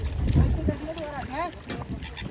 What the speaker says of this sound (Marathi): छोटे छोटे मासे खाण्यासाठी वरती पक्षी आले ते बघा समुद्री पक्षी बोलतात त्याला ककनारी